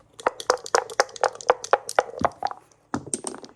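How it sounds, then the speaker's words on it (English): Dice clatter and tumble across the surface of a Casa Aries backgammon board made in Mexico, giving a quick run of close, crisp knocks and taps, then a short pause and a second burst of clicks. "I love the way the dice just tumble over the surface."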